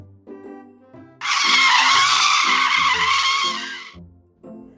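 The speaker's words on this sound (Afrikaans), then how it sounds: "Skreeu die remme." Car brakes screeching in a children's story, a single sustained shrill squeal of about three seconds, loud and alone, framed by soft musical tones before and after.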